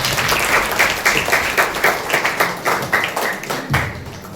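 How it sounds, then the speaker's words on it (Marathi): An audience at a taluka-level school science exhibition prize ceremony in a B.Ed college hall bursts into loud, sustained clapping, with many hands overlapping into a rhythmic, pulsing applause that fades slightly toward the end. "आवडलं असेल तर टाळ्या वाजवायला हरकत नाही."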